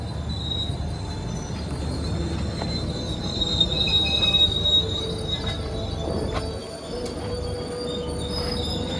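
Lodaya passenger train passes close by at a crossing, its wheels squealing loudly against the rails over a steady rolling rumble, with brief metallic screeches and clicks throughout and no voices.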